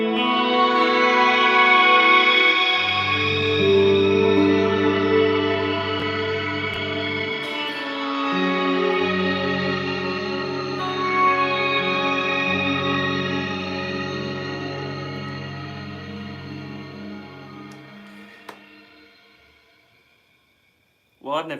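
Guitar chords played through a Meris Mercury 7 reverb pedal, sustained shimmering pitch-shifted tones swelling and washing into long ambient tails, loud and alone for about twenty seconds.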